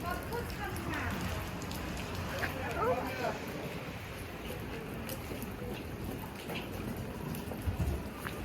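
Rain and drizzle fall outdoors in England, a steady soft patter with wind buffeting the microphone throughout.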